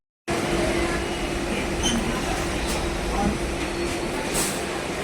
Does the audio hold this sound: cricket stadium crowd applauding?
no